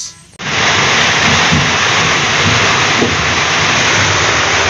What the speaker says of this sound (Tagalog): at inuulan po kami dito. Grabe lakas ng ulan.